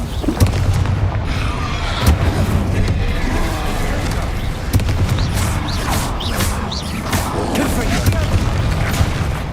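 Spell blasts boom repeatedly in the Hogwarts Legacy video game, dense bursts and crackling impacts layered over continuous battle noise and a speaking voice.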